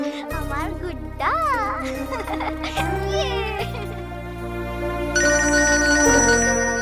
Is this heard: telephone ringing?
yes